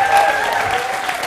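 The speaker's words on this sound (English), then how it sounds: "you might show it by giving a big round of applause" A television studio audience at a Dublin chat-show magic act breaks into steady, dense applause, a continuous wash of clapping that holds at full strength from start to finish.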